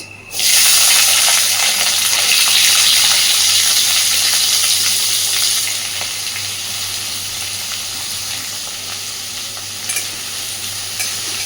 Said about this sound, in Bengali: এবার তেলের মধ্যে দিয়ে দিচ্ছি পেঁয়াজ